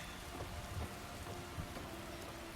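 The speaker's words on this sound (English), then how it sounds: "Just enjoying this rainy day." Steady rain falls in Skyrim, a constant dense patter with soft low rumbles of thunder beneath it, heard alone at a quiet, even level throughout.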